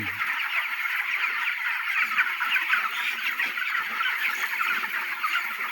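Continuous clucking and peeping from a large group of chicks indoors on a chicken farm, an even, busy chorus with no voices.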